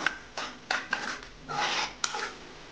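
Sesame seeds dry roasting in a pan for green chilli pickle, heard as a series of short dry scraping and rubbing strokes of a spatula against the pan, close and fairly quiet, with brief pauses between strokes.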